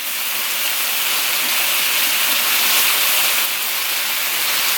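Sausages and beef sizzling on a Samoan-style grill, a loud, steady, close hiss of fat crackling that fills the whole moment without a break.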